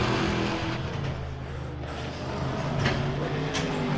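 Race car engines droning steadily on track in the VRC sim racing game, a loud continuous engine hum with some shifting pitch, heard close with no pauses.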